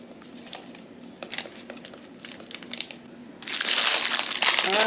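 A plastic pastry bag being handled in a kitchen while making vegan donuts, soft crinkles and crushing rustles at first, then a louder, steady burst of crumpling plastic close by near the end, with no talking.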